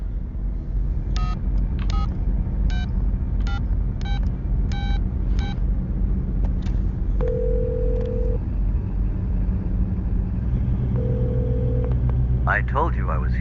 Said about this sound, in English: Dial your number.